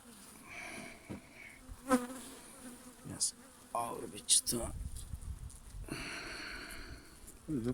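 Anatolian honey bees buzz close by at an open hive in short, uneven bursts, with occasional knocks and rustles from the frames being handled.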